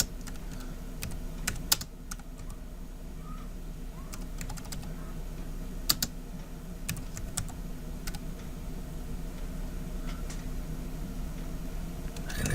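Steady typing on a computer keyboard while entering git commands, with irregular close key clicks and a few louder taps over a quiet hum, no talking.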